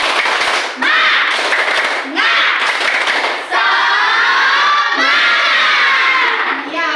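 Schoolchildren in a classroom do a rhythmic spirit clap together, with loud group chanting and shouting in bursts, claps marking the beat between voices.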